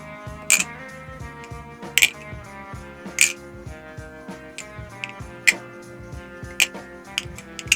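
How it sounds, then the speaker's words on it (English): A Squid Industries Bowie Kraken balisong butterfly knife is flipped, producing crisp metallic clicks and clacks that come close and loud in a loose, recurring rhythm, with sharp ringing snaps every second or so. "that sound, I mean, it's probably one of my favorite sounding balisongs"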